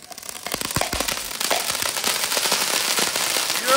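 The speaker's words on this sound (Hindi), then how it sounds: "अभी हम चलाने वाले कोल्ड ड्रिंक वाला पटाखा इसकी क्रैकलिंग ना बहुत जबरदस्त है" Rapid, dense crackling pops from a cold-drink-bottle-shaped Diwali firecracker, building and continuing steadily like sizzling sparks, close and fairly loud.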